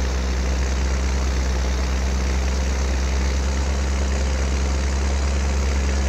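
Tractor engine in Farming Simulator 22 drones loudly and continuously at a steady low pitch, a dense unbroken rumble with no other sounds on top.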